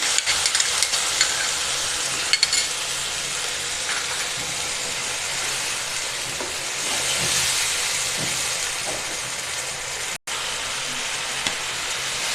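Ground tomato fries in a pan with garlic for a Koraput-style bael seed (jhota manji) curry, giving a steady, close, even sizzle with faint stirring scrapes and no talking.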